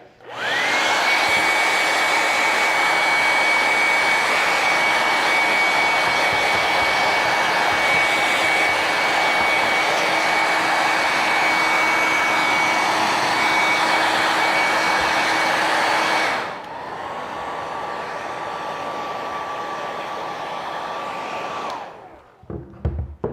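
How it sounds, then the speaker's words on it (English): A hair dryer roars steadily at close range over a vinyl-decorated pumpkin, then drops to a lower setting for several seconds before switching off. "I'm gonna take my handy dandy hairdryer and I'm just gonna zap it a little bit"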